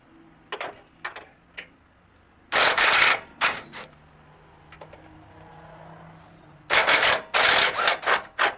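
Ratchet on a long extension loosening bumper bolts deep in a car's engine bay, giving two loud bursts of rapid clicking with scattered lighter clicks and taps between them.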